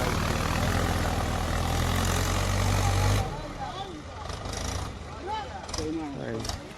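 A tractor engine runs in a field, a steady low rumble for about three seconds before it drops to a quieter idle while people talk over it.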